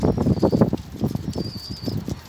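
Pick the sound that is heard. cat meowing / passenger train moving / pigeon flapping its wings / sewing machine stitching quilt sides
pigeon flapping its wings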